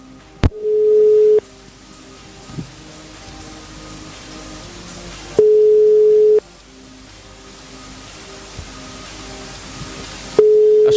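A telephone line on a radio contest call to a winner rings in three long steady tones, each about a second long and separated by several seconds of faint hiss.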